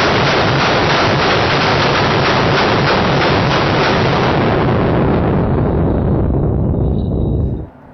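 A full-auto combined AR rifle built from four rifles fires at a Las Vegas shooting range, an unbroken, very loud roar of rapid shots lasting several seconds before cutting off abruptly.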